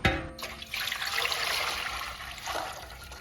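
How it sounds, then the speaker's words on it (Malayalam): Water pours into milk in a pot for semiya payasam, opening with a sharp knock, then a close, full splashing stream that swells and gradually tapers near the end. "രണ്ട് ലിറ്റർ പാലിൻ്റെ അകത്ത് രണ്ട് ലിറ്റർ വെള്ളം കൂടെ നമ്മൾ ചേർക്കുകയാണ്"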